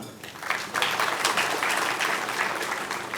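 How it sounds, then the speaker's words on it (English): Applause from the audience at an Indian Institute of Public Administration regional conference inauguration, a dense steady wash of many hands clapping that swells after a moment and holds evenly. "I hope all of you don't mind in clapping it for the same"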